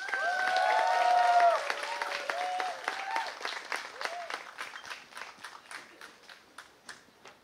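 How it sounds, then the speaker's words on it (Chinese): Audience at Tiehua Village music venue applauding at an album tour concert, with whoops and cheers over the opening clapping, then the applause thins and fades into scattered claps. "那我们就掌声欢迎"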